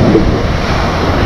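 Surf washes over a person lying in the shallow water at a Punta Cana beach, a steady, loud, broadband rush of waves with wind noise. No one talks.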